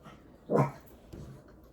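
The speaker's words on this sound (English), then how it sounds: "She thinks she's a guard dog, y'all." A dog barks at someone at the door: one sharp, close bark followed by a fainter second yelp, alone in a quiet room.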